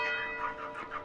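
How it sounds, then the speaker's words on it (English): Church bells ringing out over Kelso, a town in the Scottish Borders, at nine in the morning, with sustained tones swelling in repeated rhythmic strokes, moderately distant and steady throughout the short stretch. "There's gonna be 9 bells, isn't there?"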